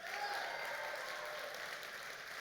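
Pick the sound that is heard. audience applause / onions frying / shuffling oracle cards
audience applause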